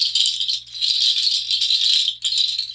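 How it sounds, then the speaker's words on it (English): A handheld seed pod shaker rattles in a continuous dry, crisp swish of many small seeds, shaken steadily and close with one brief pause near the end. "This is a seed pod shaker."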